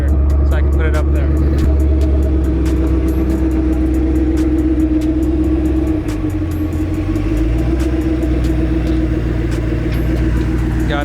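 A twin-turbo Boss 302 car engine idles and runs steadily close by, a deep continuous rumble that holds throughout while someone talks over it.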